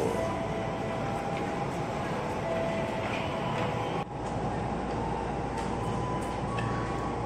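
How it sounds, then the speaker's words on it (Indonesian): A ten-car Tokyo Metro 6000 series electric commuter train rumbles steadily past at close range near Jakarta, a dense roar of wheels and carriages with faint rhythmic clatter throughout, unbroken for several seconds. "Tokyo Metro seri 6017 komuter tujuan Jakarta Kota rangkaiannya 10 kereta"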